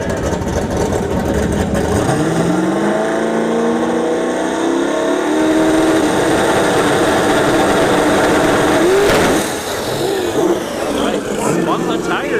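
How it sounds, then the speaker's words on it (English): Drag racing car, a third-gen Camaro, launching at a Bradenton drag strip and spinning its tires, the engine roaring loud and rising in pitch over several seconds while an announcer talks throughout. "Spun the tires there."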